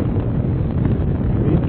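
Wind on the Mont Blanc summit at 4809 m rumbles hard against the microphone, a constant, loud, low buffeting with no voices.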